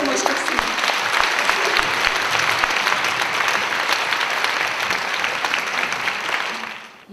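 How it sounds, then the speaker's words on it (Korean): A church gathering welcomes a pastor's wife with a big round of applause, thick sustained clapping from a sizable crowd lasting several seconds before tapering off, with some voices in the mix. "우리 최명자 사모님을 큰 박수로 모시겠습니다."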